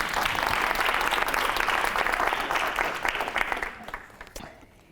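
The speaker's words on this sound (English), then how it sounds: "Give yourselves a round of applause for that." Audience applause at a United Methodist creation care summit, loud sustained clapping from a large crowd that tapers off toward the end.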